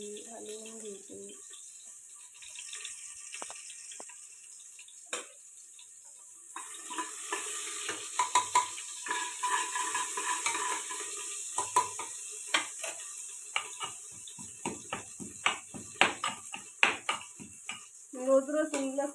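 Garlic and coconut fry in ghee as a spoon stirs them, giving a soft sizzle with a string of sharp scrapes and clinks against the pan that grows busier toward the end, with a voice at moments.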